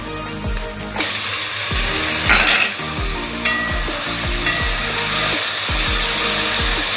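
Chopped onion and tomato cook in a pan for kabsa, loud and near, with a continuous sizzle, repeated scraping and stirring knocks, and a brief surge of hiss partway through.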